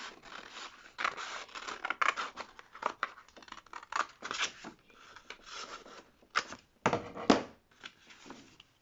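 Scissors cut through joined paper pages of a handmade book: a close, quiet run of repeated crisp snips and slicing rasps in an irregular rhythm, with short pauses between cuts.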